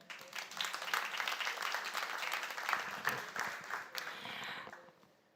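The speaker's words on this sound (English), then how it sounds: "Please applause one more time." Applause for two keynote speakers at a high-level dialogue on clean energy partnership rises quickly and holds as a steady, distant, fairly faint clatter before fading away near the end.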